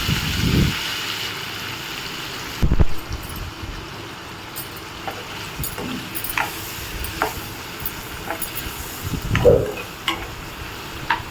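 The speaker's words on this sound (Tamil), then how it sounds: "கட் பண்ணி வச்ச பன்னீர் வந்து இதில் போட்டு ஃப்ரை பண்ணிக்கலாம்" Cut paneer cubes fry in a pan of masala for paneer butter masala, giving a steady, moderate sizzle with occasional stirring and scraping knocks, no voices.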